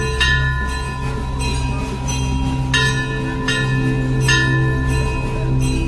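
Many temple bells ring continuously and loudly at Golu Devta temple in Chitai, struck clang after clang in overlapping layers with sharp repeated strikes over a dense, sustained metallic wash.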